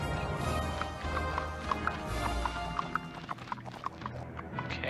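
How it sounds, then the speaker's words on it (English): Horses clip-clop through a video game scene featuring Shrek, a steady run of hoof knocks close by over a busy background of game music and ambience. "What if I punch these horses?"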